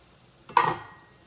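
A pork chop meets a hot pan with one short, sharp burst of sizzling that flares up and quickly settles to a quiet hiss.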